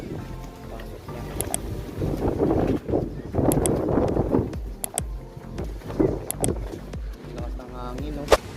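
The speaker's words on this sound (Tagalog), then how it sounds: "Lakas ng hangin." Strong gusts of wind at a fun race in Catanauan, Quezon, Philippines buffet the microphone in rough, uneven bursts, with sharp clicks and faint voices in the background.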